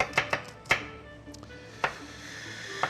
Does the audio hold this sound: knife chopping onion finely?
yes